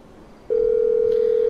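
Phone calling Merryweather in the video game Grand Theft Auto V: a single steady electronic ringback tone lasting about a second over a low game background.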